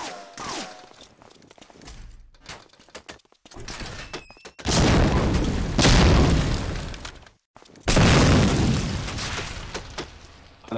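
Bombs going off in a video game: scattered crackles and pops open the scene, then two long, loud roaring blasts fill the middle and the end, separated by a short silence.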